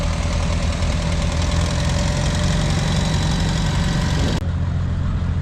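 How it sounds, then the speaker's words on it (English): A 1962 Massey Ferguson 97 tractor runs in the Lacombe power parade, its engine a loud, steady, close knocking rumble that keeps going throughout and shifts slightly in tone near the end. "This is William and Keith Crocker's tractor being driven by Keith right now. It's a 1962 Massey Ferguson 97"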